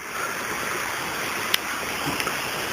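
Steady broadband rush of a waterfall spillway on Los Gatos Creek near Lark Avenue, constant and fairly close, pouring without pause; a couple of faint clicks are the only other sounds.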